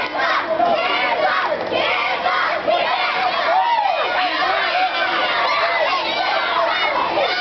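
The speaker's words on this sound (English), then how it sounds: "And the crowd again chanting for Kimba." A wrestling crowd chants for Kimba during a Kimba vs Prodigy match, a loud, continuous mass of voices shouting and cheering, dense and sustained throughout.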